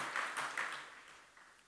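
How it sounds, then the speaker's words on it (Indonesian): Crowd applause at an Aceh event honoring the Amanah Youth Creative Hub, a brief burst of clapping that swells and then fades away. "Tepuk tangan untuk amanah Youth Creative Hub di Aceh"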